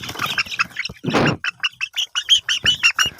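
Twenty-day-old tiger chicken chicks peep loudly and close by, a rapid series of shrill cheeps that grows more regular toward the end.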